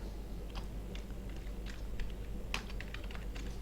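Someone types on a computer keyboard while entering button text in a VB.net program, producing faint, irregular keystroke clicks over a quiet room hum with no talking.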